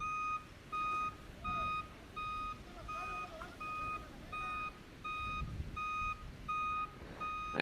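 A construction truck's reversing alarm beeps in a steady, evenly spaced pattern at a Starship SN10 static fire test site, moderately distant over a low rumble of machinery and ambient noise.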